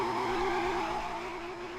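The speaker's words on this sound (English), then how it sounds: "I'm not in the car and I'm drifting." Car engine in the Garry's Mod video game holds a steady, loud, high-pitched whine while drifting, with no talk over it.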